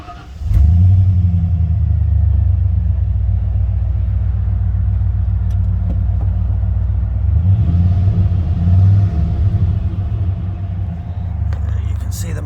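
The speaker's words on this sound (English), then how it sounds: "Starts right up every time, no knocks, no clicks in the engine." A well-maintained car engine cranks and catches, then settles into a steady low rumble with a brief rev partway through, heard close and loud.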